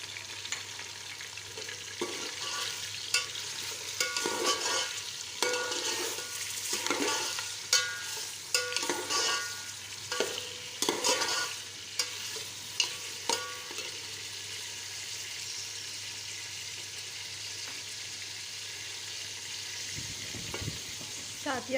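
Beef frying in a pot with whole garam masala spices for a korma-style aloo gosht, with steady sizzling and repeated scraping stirs of a spoon, close and continuous before settling into a quieter sizzle.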